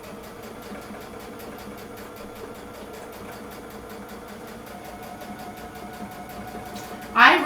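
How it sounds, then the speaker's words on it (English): A domestic sewing machine runs steadily while quilting, giving a continuous, even mechanical hum with a faint rhythmic whir, nearby and moderately quiet, ending with a brief louder burst. "You quilt on your sewing machine."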